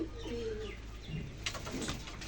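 Pigeons cooing at close range in a loft, soft rolling coos with a few chirps and light flutters under a faint hum.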